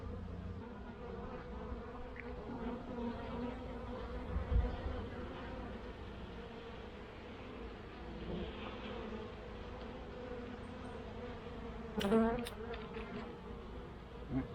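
Honeybees buzz steadily around an opened queen mating nuc, a close, continuous drone with a few louder passes near the listener.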